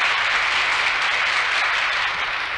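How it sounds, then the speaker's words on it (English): A theater audience applauds the conductor as the show is about to begin, a steady dense wash of many hands clapping throughout, with no voices standing out. "who acknowledges the applause."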